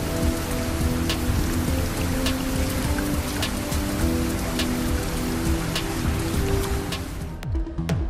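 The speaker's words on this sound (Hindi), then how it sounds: "लाहौर में मूसलाधार बारिश का एक और स्पेल।" Torrential rain pouring steadily in Lahore, a dense, loud hiss of drops drumming on surfaces throughout, with no voices heard.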